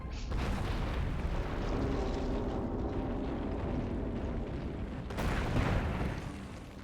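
Missiles firing in the video game Metroid Prime Remastered: dense, roaring explosive blasts filling the whole stretch, loud and continuous, with a fresh sharp boom near the end.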